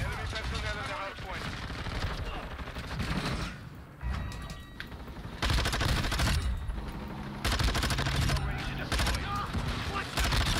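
Rapid submachine gun fire from a Vaznev 9K in Call of Duty MW2 rattles in dense, loud bursts almost continuously, mixed with game effects and a voice talking over it.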